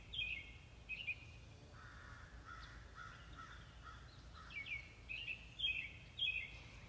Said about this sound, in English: Allow the sound of the birds to take you deeper and deeper.